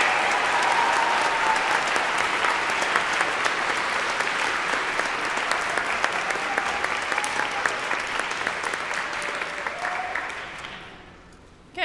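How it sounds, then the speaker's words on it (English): An audience applauds graduates at a 2015 recognition ceremony for the School of Writing, School of Media Studies and TESOL programs. Dense, sustained clapping fills the room for about ten seconds, then fades away. "let's first hear a round of applause for all the graduates"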